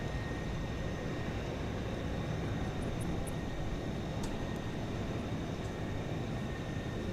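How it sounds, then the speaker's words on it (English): A UPS Airbus A300 taking off at night from DFW Airport, bound for Chicago Rockford, a continuous distant low engine roar rumbling steadily and evenly, with faint high tones overhead and no voices. "here goes the A300 off to Chicago Rockford International Airport"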